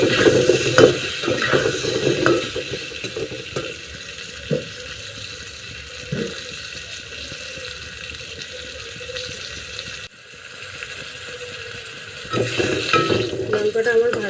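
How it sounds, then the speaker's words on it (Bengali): Pointed gourd frying in oil in a pan, a continuous hiss and crackle with stirring scrapes and knocks, close and fairly loud, easing off partway before rising again. "এখন পটলটা দিয়ে দেব। এটাকে ভালো করে ভেজে নেবেন।"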